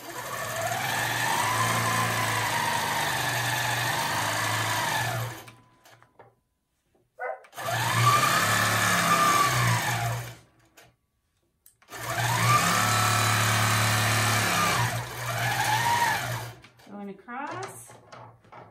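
A longarm quilting machine stitches a quilt-as-you-go piece with batting in three loud, steady whirring runs separated by short pauses with faint handling noises.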